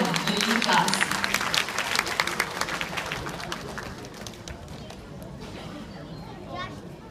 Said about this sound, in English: a round of applause for these 4-year-olds from pre-1 baby class